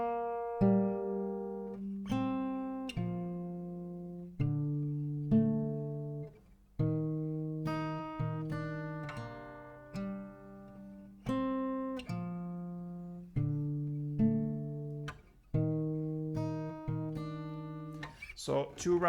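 Acoustic guitar plays a song's intro melody at standard tempo, a steady run of clear plucked notes about every second, close-miked and uninterrupted by speech.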